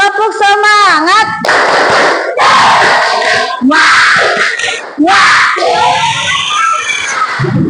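A primary school class in Palembang chants and claps together in the tepuk semangat cheer, voices loud and close with rhythmic hand claps and shouts, a teacher's voice leading at the start.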